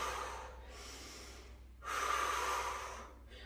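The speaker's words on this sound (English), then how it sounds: "So breathing in and breathing out." Slow, audible breaths in and out during a pregnancy strength workout, a soft exhale, a pause, then a louder drawn-out breath, close and unaccompanied by talk.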